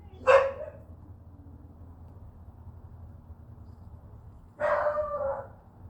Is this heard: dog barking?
yes